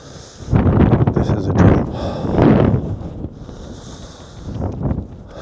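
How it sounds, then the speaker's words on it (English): Strong wind buffets the microphone outdoors in Iceland, a loud rumbling roar that surges and eases in gusts throughout, with people talking underneath it. "And this wind is like ridiculous."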